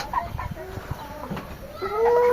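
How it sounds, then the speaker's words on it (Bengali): Broiler chickens on a small farm cluck softly in a short burst, with a rising call near the end over faint farmyard background. "ব্রয়লার মুরগি"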